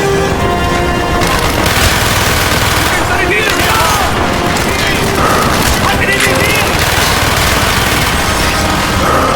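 Dense bursts of automatic rifle and machine-gun fire crackle continuously in a Call of Duty: Black Ops battle, loud and close, with soldiers shouting in German over the shooting.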